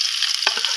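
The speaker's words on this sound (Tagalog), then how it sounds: "ilalagay ko na po yung mantika. Tapos isusunod ko na po yung sibuyas at bawang." Onion and garlic sizzle in hot cooking oil for a sautéed shrimp dish, a close, steady hiss with a short burst of stirring scrapes partway through.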